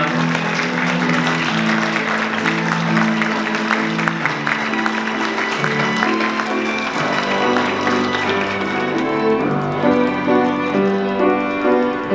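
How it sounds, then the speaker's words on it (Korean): Applause from the guests at a wedding ceremony as it opens, steady and dense across the whole stretch, with tonal music playing loudly underneath. "조금 더 큰 박수 부탁드리겠습니다."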